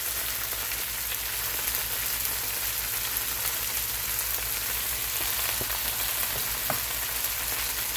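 Brussels sprouts and onions sauté in a quarter cup of olive oil, giving a steady close sizzle and crackle with a few faint pops and no voices.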